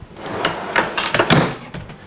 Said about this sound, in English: Push it all the way in and you'll feel click.